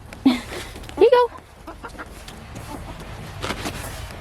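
Chickens give a few clucks and a short squawk nearby while being fed gingerbread cookies outdoors, set against a low background hum and faint scattered noises.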